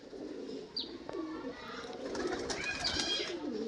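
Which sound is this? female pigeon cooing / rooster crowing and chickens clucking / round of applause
female pigeon cooing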